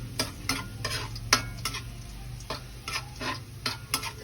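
Bagoong alamang (shrimp paste) browning in a pan, with a steady low sizzle under repeated scraping stir strokes and occasional utensil clicks, close and moderately loud, no talking.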